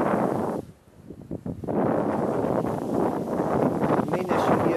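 Wind blowing across sand dunes during sand-yacht sailing, a steady roaring buffet of gusts against the microphone, loud and continuous apart from a brief lull near the start.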